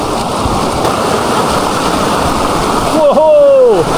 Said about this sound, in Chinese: 耳边只有水声与风声低语